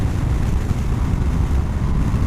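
A 2019 BMW R 1250 RS motorcycle rides along a road, its engine giving a steady, loud low drone mixed with wind rush, with no voices.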